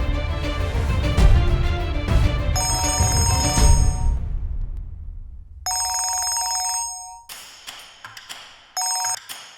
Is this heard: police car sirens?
no